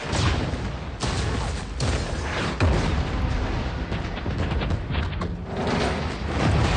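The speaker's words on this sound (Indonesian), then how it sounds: "Terjadi ledakan yang cukup besar dan menggemparkan." Large film explosion effect with dense, sustained booming and crackling debris that stays loud throughout, with bursts resembling artillery and gunfire, no speech.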